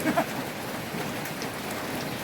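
Steady rain falling on a surface, a dense, even patter with no voices, continuous throughout.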